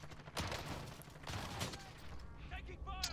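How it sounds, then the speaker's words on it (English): Gunfire in a Warzone match, several shots from a Grau 5.56 rifle loadout ringing out in quick bursts across the clip, mixed with game noise and a voice talking over it. "Someone's shooting at me."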